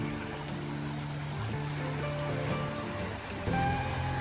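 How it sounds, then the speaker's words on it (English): Steady broadband rush of a flowing creek beside a campsite in George Washington National Forest, Virginia, continuous throughout with a faint low hum underneath and no voices. "you could probably hear the creek"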